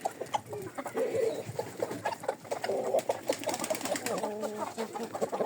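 Backyard hens and a rooster cluck and coo in a busy flock alongside pigeons, with overlapping calls, some close and loud, others softer, and a faint voice now and then.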